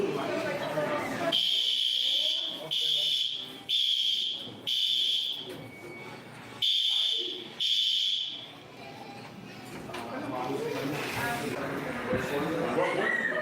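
A fire alarm sounds in repeated loud, shrill buzzing bursts of about a second each, with short gaps between them, while people talk over it and in between.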